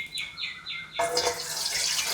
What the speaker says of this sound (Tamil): இட்லி பானையை போட்டாச்சு. தண்ணி ஊற்றணும்.